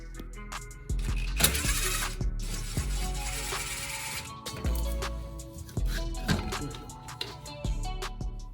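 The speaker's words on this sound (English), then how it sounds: "You'll have to remove these little hex bolts to get the old shock guard off." A ratchet works hex bolts off the shock guard of a Chevy Colorado ZR2, producing repeated close clicking runs in short bursts separated by brief pauses, with no talking.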